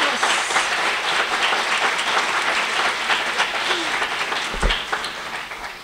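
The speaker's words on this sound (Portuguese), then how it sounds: "Palmas, palmas." Sustained applause from a congregation at a theology of the body talk, a dense, loud roll of many hands clapping that carries on steadily for several seconds with only slight swells.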